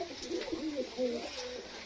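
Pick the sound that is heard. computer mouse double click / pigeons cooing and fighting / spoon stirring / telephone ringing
pigeons cooing and fighting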